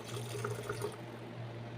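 Water is poured into chickpeas in a blender, a soft, steady trickling and splashing close by, fairly quiet, with a low hum underneath throughout.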